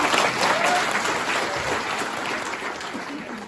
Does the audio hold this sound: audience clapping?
yes